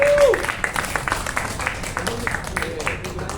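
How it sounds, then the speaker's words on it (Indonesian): Classroom applause from a group of students, a brief burst of hand clapping mixed with voices and crowd chatter, moderately loud and close. "apresiasi tepuk tangan"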